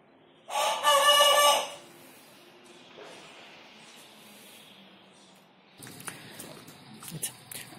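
A rooster gives one loud, close crow near the start, then the scene settles into quieter background noise with some scattered rustling toward the end.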